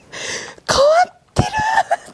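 A voice imitates a man clearing his throat, giving two rough, gravelly throat-clearing bursts separated by a short pause, close and fairly loud.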